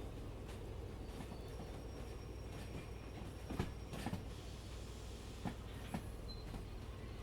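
Train rolling along the track in the Derail Valley railway simulator, a steady rumble with faint rail clicks and a few soft knocks near the middle, with no talking.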